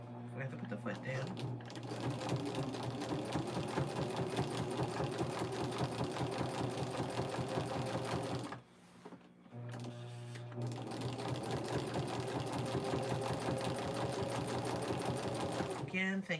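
A sewing machine stitches binding onto the African Queen quilt, running in a steady, close, continuous whir that stops briefly partway through and then resumes.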